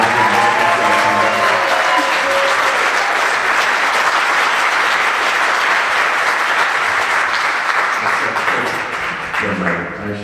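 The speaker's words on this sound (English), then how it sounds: "So can I get one more big, big round of applause for this?" Loud, sustained audience applause fills a high school jazz concert hall, dense clapping holding steady for about ten seconds before tapering slightly at the end.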